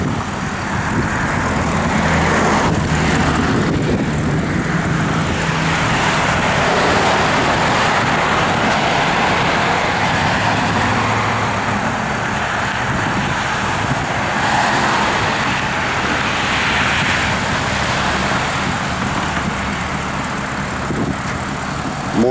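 Steady, continuous roar of morning road traffic, a broad wash of engines and tire noise with vehicles passing at moderate distance, no voices.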